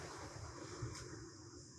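Gusty wind outdoors during a gentle warrior yoga session, a low, faint rumble of buffeting air on the microphone with a brief swell near the middle, no voices.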